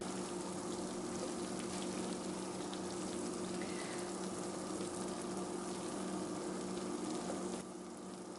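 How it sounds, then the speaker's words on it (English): Faint, steady sizzling and crackling of food frying, a continuous hiss with a low hum underneath. "Listen to that sizzle."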